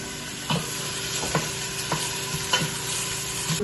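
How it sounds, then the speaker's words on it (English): Vegetables frying in olive oil in a pan give a steady close sizzle, broken by regular scraping stirs roughly every half second. "Let the vegetables get gilded with olive oil and soften and turn translucent."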